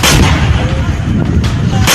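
Artillery cannon fire by Taliban fighters in Panjshir, Afghanistan, a loud, dense roar of booming blasts and rumble with sharp bursts near the start and end, no clear talking.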